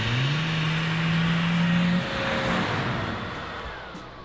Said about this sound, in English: We did this one shot where the cars zoom by and we have a leaf blower